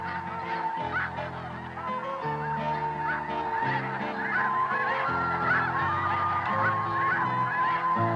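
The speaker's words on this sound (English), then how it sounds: "The snow geese will be joined by other birds migrating from the south" Snow geese honk continuously on their migration north toward the Arctic, a dense overlapping chorus of many calls at steady loudness throughout.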